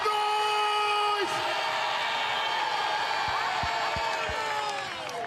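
Convention crowd at a Democratic Alliance federal congress roars and cheers steadily, a dense sustained wall of noise with whistles and a few sharp claps or thumps near the end.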